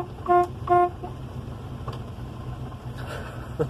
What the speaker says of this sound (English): Ooh, and the horn.